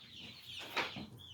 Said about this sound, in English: So we got chickens.